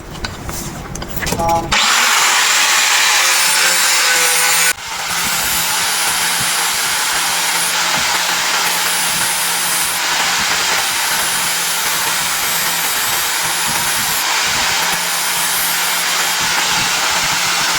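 Coconut shell being cut for a craft project with a power tool, a loud steady whine of the cutter running for most of the stretch after a brief start, with one short dip midway before the grinding resumes.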